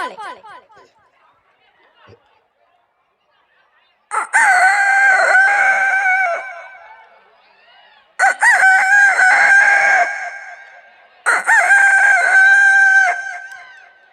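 A man imitates a rooster's crow three times, each long wavering call rising and trailing off, after a brief spoken phrase.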